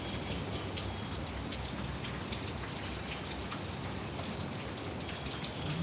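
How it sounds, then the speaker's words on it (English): Heavy rain pours steadily during a bright spring afternoon in Virginia, a dense, constant hiss of drops on surfaces close by with no voices. "This is really bright out right now and pouring."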